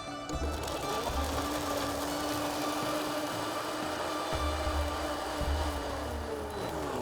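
Electric blender jug whizzing fresh garlic halves in a kitchen, a steady loud motor whir running continuously with a few brief dips in pitch, alone without talk.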